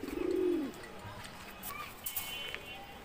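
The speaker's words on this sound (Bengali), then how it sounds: "একটা বইল নর কবুতর" A male pigeon, a bird being offered for sale, gives a short rolling coo close by at the start, followed by faint chirps and light background noise.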